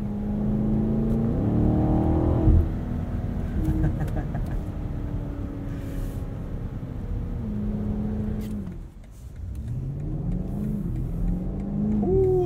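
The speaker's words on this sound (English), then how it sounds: "Just bangs into the next gear." A 2021 BMW Alpina XB7 accelerates hard, its engine rising in pitch, then shifts up with sudden drops in tone. The engine note climbs again after each change, heard loud and close from inside the cabin.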